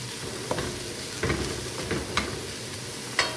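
Carrots are stirred into sizzling sambosa filling in a pan, a steady close frying hiss punctuated by several sharp scrapes and clicks of the utensil against the pan.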